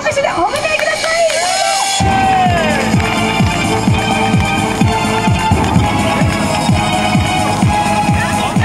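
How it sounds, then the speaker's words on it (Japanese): An outdoor crowd at a local idol festival applauds and cheers as the idol group LYRA takes the stage, steady clapping mixed with scattered shouts under loud event noise. "それでは拍手でお迎えください。"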